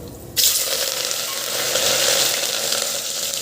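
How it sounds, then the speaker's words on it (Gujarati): Cumin and mustard seeds hitting hot oil for a Gujarati tempering, an abrupt loud sizzle that bursts in after a moment and keeps crackling steadily. "તો હવે આપણે વઘાર કરી લઈશું એમાં નાખશું આપણે જીરું ને રાઈ"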